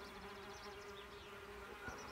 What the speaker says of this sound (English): these are my red mason bees